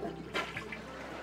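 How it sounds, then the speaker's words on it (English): A household toilet flushes after its water supply is shut off at a quarter-turn valve; a soft rush and trickle of water runs quietly and steadily, fairly close. "And then we're going to flush the toilet"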